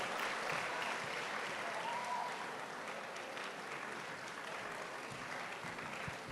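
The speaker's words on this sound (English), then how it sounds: "A round of applause, sorry." An audience at a women's business conference plenary applauds during a stage photo moment. Steady, faint, distant-sounding clapping fills the whole stretch and eases off slightly toward the end.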